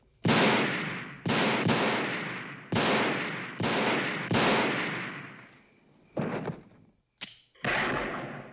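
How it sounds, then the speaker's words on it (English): Gunshots from a 1981 horror film flashback scene, a series of loud, sharp reports with long decaying echoes, about seven shots in an uneven rhythm, with no talk. "we have more and alternate footage when Michael gets shot off the balcony"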